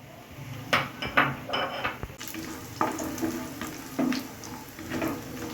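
Urad dal bori fry in hot oil in a kadai on a gas stove, with irregular clinks and clatters of the pan and spoon over a soft, continuous frying hiss.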